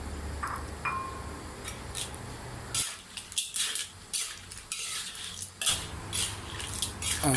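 Clams are stir-fried in a pan with chili paste and basil, with a spatula clattering and scraping against the metal in irregular bursts over a low sizzle, close and moderately loud.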